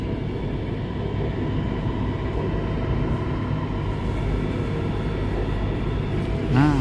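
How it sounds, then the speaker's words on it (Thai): Steady rumble and hum of a Bangkok MRT Blue Line train riding across the Chao Phraya River, heard from inside the carriage, continuous and close, swelling slightly near the end. "นั่งรถไฟฟ้าสายสี น้ำเงินนะครับผม จมแม่น้ำเจ้าพระยานะผม"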